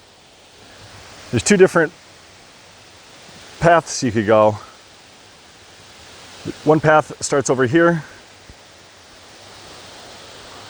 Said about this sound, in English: Wow, I hear a lot of water.